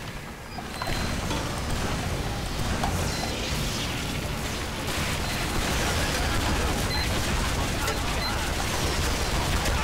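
Dense, continuous gunfire crackles in the Team Fortress 2 video game, a rough sustained barrage of shots blending into a harsh noisy wash with faint mechanical clicks.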